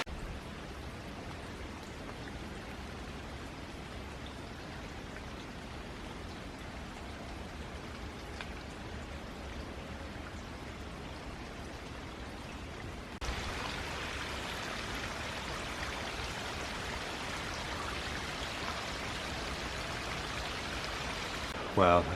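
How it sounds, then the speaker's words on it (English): Spring water runs and trickles down outdoors in a steady, broadband rush that stays even throughout and grows brighter and louder partway through, with no speech. "Oh my God, there's more water coming down here. This is alive with springs."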